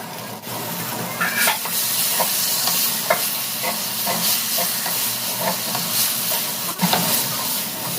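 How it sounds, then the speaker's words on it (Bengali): Fish pieces are stirred and sautéed in a spice paste in a pan, giving a continuous moderate sizzle with scattered scraping and clicking stir strokes. "এবার মাছটা আমি এর মধ্যে মশলার মধ্যে দিয়ে ভালো করে কষিয়ে নেব"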